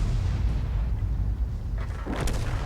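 A T92 HMC self-propelled artillery gun in World of Tanks fires, a deep booming blast carried over a continuous heavy low rumble, with a sharper crack toward the end.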